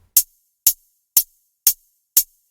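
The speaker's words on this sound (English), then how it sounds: "As you know, we like that subtle hi-hat sound." Five evenly spaced, crisp hi-hat hits with a touch of reverb and light delay ring out alone, each short and bright, quiet and subtle.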